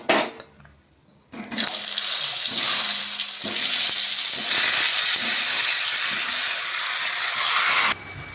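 Sliced mango pieces with their salted juice go into a hot kadai, setting off a loud, steady sizzle and hiss after a brief quiet start, which holds evenly and then drops off near the end.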